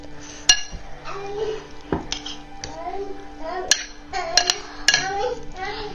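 Raw fish ceviche being mixed in a bowl, with sharp clinks and scrapes of utensil against dish at irregular intervals while children and adults talk over it.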